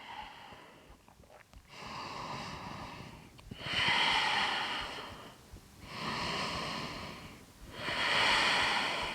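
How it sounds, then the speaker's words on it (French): Slow, audible ujjayi yoga breathing through a slightly constricted throat, with a rushing, ocean-like hiss on each long inhale and exhale, close and steady, repeating in even cycles. "on resserre légèrement la zone de la gorge pour créer cette sonorité à l'inspire et à l'expire"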